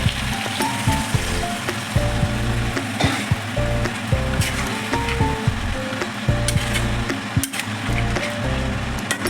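Hot water hits a pan of chicken curry cooked with onion, garlic, ginger and curry leaves, setting off a loud, steady sizzle with faint stirring and scraping throughout.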